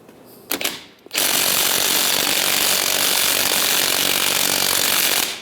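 A power tool, likely an impact wrench with a 21mm socket, removes the upper strut mount nut on a 1998-2010 Volkswagen Beetle: a brief stutter, then a loud sustained whirring rattle lasting several seconds up close.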